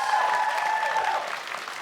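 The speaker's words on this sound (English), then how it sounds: "How about a round of applause?" A studio audience applauds at the season premiere of a high school quiz show on a new set, the clapping loud and sustained, then thinning slightly toward the end.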